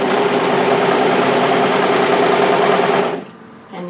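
Serger overlocker stitching a thread chain: a loud, fast, steady mechanical whirring hum for about three seconds, then it stops, leaving quiet with a faint click.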